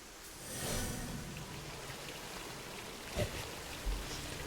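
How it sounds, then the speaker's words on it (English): Rain falling in a video game, a steady soft broadband hiss with no voices, swelling slightly early on and broken by two brief louder thumps near the end. "Well, I'm in the rain again."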